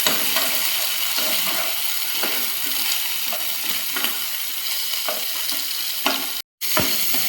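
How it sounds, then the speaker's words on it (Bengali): Marinated chicken fries on a high flame, a dense close sizzle broken by scraping stirs and clicks, with one brief silent gap near the end. "এইবারে আমি ম্যারিনেট করে রাখা মাংসটা কিন্তু হাই ফ্লেমে দিয়ে 2 মিনিট পুরো ভেজে নেব।"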